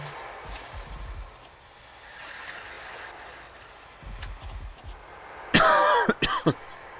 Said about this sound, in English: I'm really sorry about having this cough.